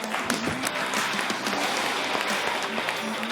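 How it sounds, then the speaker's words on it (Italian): A crowd applauds minigolf at a televised local sports show, with steady, dense clapping throughout and no voices over it. "un applauso al minigolf"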